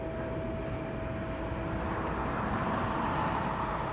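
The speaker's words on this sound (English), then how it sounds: "So we have an aircraft inbound on the approach." An aircraft on approach to East Midlands Airport at night gives a steady, broad engine roar that slowly swells, distant but continuous, with no talking.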